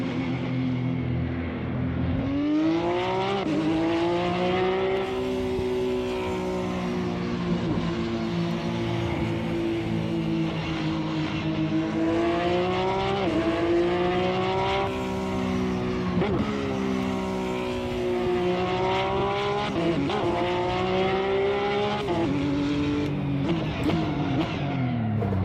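A race car in Assetto Corsa, in a Mercedes versus Porsche race, roars close and loud, engine pitch climbing through gears, then dropping sharply under heavy braking and downshifts before building again.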